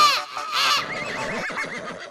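A person imitates a crow's caw in a strained, wavering vocal cry that rises and falls for about two seconds, loud and close.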